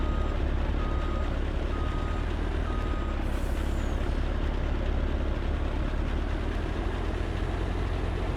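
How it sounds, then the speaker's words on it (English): A grain truck in a farming video game rumbles steadily with a heavy low engine drone, with faint intermittent beeping tones over the constant loud noise and no talking. "grain truck coming in useful for everything"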